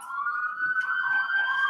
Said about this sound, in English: Oh, the siren.